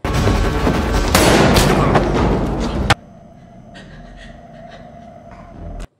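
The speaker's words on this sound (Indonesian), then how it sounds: "Di bagian atas tangga, Kathy berhasil menembak orang itu hingga tewas." Gunfire erupts in a stairwell shootout from The Terminal List: a dense, loud volley of shots fills the first three seconds, then cuts to a quieter room where a few fainter, scattered impacts and bumps follow.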